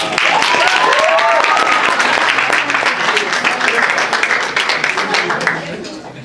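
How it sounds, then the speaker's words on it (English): An audience claps loudly and steadily at a student MSA event, a dense, close wash of applause that holds for several seconds and eases slightly at the end. Voices are mixed in with the clapping. "Clap for them."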